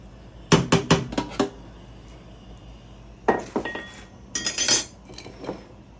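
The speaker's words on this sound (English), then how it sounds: "I'm stirring it so that it doesn't stick to the bottom while it's boiling for now" A utensil stirs boiling rice in a cooking pot, scraping and clinking against the metal in two quick bursts of rapid taps separated by a short pause.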